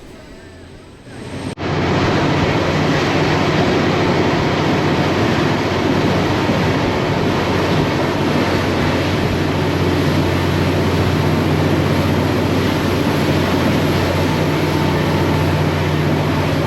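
Northern Explorer passenger train crossing a viaduct in New Zealand, a loud, steady rumbling roar of wheels and rushing air that swells in abruptly after a quieter start and holds constant to the end.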